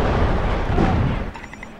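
Heavy gunfire and booming explosions from a Killzone 2 multiplayer match, a dense loud rumbling barrage that thins out in the last moment with faint high electronic tones.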